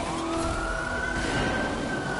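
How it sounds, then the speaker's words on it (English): A police siren in the street-racing game The Crew 2 wails steadily with a slowly rising tone, loud and close over dense engine and road noise. "It's the sound of the police"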